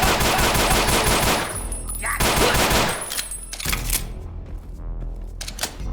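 Rapid bursts of automatic gunfire in the video game Ashes: Afterglow, loud and close, with dense rattling volleys broken by short pauses and a few separate single shots.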